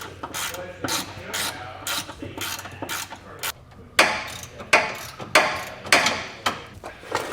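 A ratchet clicks in quick, rapid bursts while removing heat shield bolts under a 2023 Chevrolet truck, the close metallic ratcheting repeating over several seconds with sharper knocks toward the end.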